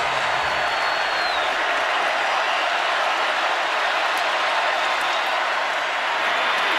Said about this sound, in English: Jake Fromm trying to be heard over the crowd.